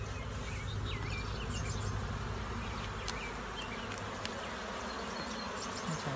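Honey bees buzz steadily and quietly, a dense continuous hum of many insects close by, with no voices.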